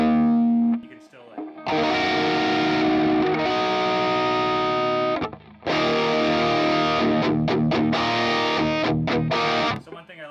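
Electric guitar through a Line 6 HX Stomp with a distorted pop-punk rhythm tone, strumming full open chords in sustained bursts, with brief pauses and choppy stabs near the end.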